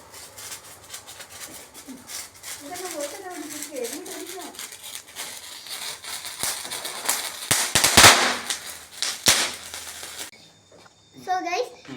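Diwali firecrackers burst in a cluster of sharp, loud cracks near the end, over a noisy festive background with children's voices chattering throughout.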